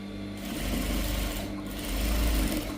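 A sewing machine stitches a gown seam about an inch behind the shoulder, running as a steady close mechanical whir for the whole stretch, its hum swelling slightly twice.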